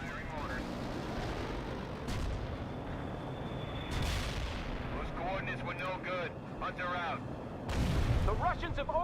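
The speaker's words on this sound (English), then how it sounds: "General barrage here." Artillery barrage from the video game World in Conflict: dense, rumbling booms and crackling blasts roll continuously, with a heavy burst near the end, while voices talk over the din.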